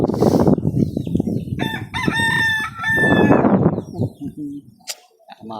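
A person talks as a nearby rooster lets out a long, loud crow, with chickens clucking softly afterward.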